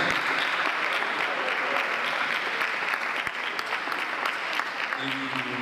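Conference audience applauding steadily at a business summit, dense continuous clapping throughout, with faint talk or music emerging near the end.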